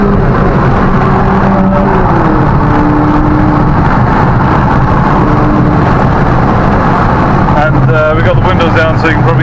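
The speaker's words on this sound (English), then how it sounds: "We got the windows down so you can probably hear some road noise." Road noise and engine drone from a 2.0 TFSI mk2 Skoda Octavia vRS driving with its windows down, a steady broadband rumble and wind roar throughout, with a person talking over it.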